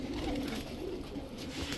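A matched pair of red-necked high-flyer pigeons, male and female, coo softly and continuously at close range, a low murmuring throb with no voices over it.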